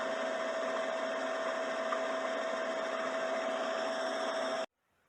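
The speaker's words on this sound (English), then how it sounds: "it's going to start winding my bobbin just like that." A Brother sewing machine whirs in a constant, steady hum as a bobbin winds under foot control, then stops abruptly near the end.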